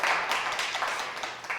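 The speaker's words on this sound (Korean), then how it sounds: "한 번 더 박수 한번 부탁드립니다" Audience at a women's living lab forum applauding, a brief, dense wash of many hands clapping at moderate distance, steady and slightly fading.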